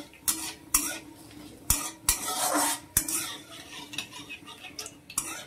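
A utensil stirs a bay leaf in a cooking pan for a vegetable dish. Sharp metal scrapes and clinks come at irregular intervals over a soft sizzle of oil, close up with no talk.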